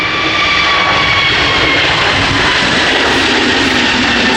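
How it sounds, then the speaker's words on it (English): An airliner with a Neo sticker roars at full power on takeoff at Edinburgh airport, a steady loud engine noise with a whining tone held throughout. "Well, that's a quick takeoff."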